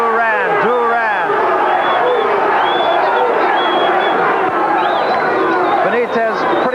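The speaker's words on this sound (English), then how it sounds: "Crowd on its feet." Boxing arena crowd on its feet roaring and cheering at a Roberto Duran vs Wilfred Benitez fight, a loud, continuous wall of voices with shouts rising above it throughout.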